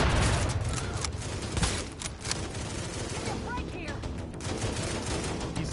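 Sniper gunfire in the game The Division, Police Academy mission on Hard, heard as dense repeated sharp shots and bursts throughout, loud and busy under faint voices.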